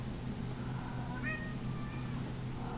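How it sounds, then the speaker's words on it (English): A pet cat meows a few times, the calls faint and slightly distant, set against a steady low background hum in an indoor room with no talking. "There's my cat."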